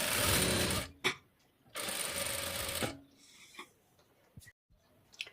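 A sewing machine stitches the back panel of a blouse in two loud, close bursts of rapid whirring. Quieter handling noises and brief clicks follow between and after the runs.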